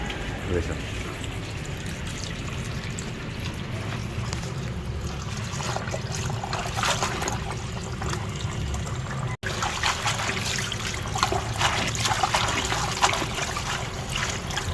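Sweet potato leaves being rinsed by hand in a basin of water, with a steady trickling, sloshing wash running throughout, close and fairly loud.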